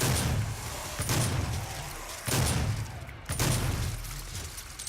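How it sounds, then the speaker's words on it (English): Shotgun blasts from a first-person video game, three heavy booms spaced about a second apart over a steady background rumble of game ambience. "I didn't need to shoot those guys with the shotgun, but I wanted to"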